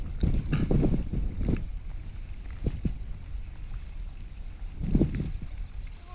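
Outdoor wind buffeting a microphone in irregular low gusts, heaviest at the start and again near the end, with nobody speaking.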